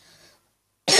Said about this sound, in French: Pardon pour que je tousse.